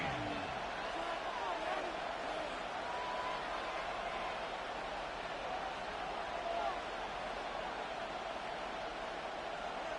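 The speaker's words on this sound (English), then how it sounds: "This crowd turning up the decibel level." Stadium crowd noise in the football video game Madden 26: a steady, low, continuous roar of a distant crowd, unchanging for the whole stretch.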